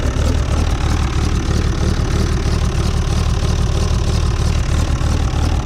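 A loud old tractor engine idling nearby, a steady low throbbing chug that runs without a break.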